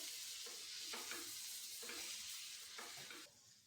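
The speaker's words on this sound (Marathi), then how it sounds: "आता त्यात आपण हे दोन टोमॅटो टाकून घेऊ टोमॅटो पण मसाल्यामध्ये छान परतायचे" Tomatoes sauteing in a spice masala in a pan give a soft continuous sizzle, with repeated stirring scrapes of a spoon roughly every second, fairly quiet and close.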